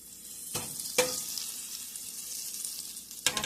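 Butter sizzles in a frying pan at a steady hiss, with a couple of sharp clatters of the pan or utensil early on and one near the end.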